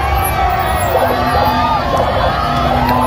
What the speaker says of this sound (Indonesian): Teriak-teriak tuh, Pak Jokowi.